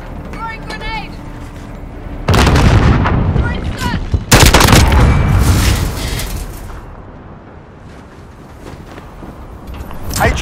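Video game Call of Duty: Modern Warfare battle: a grenade blast and heavy rolling gunfire, loud and close, with bursts and booming impacts over a couple of seconds, then fading into distant shots and battlefield din.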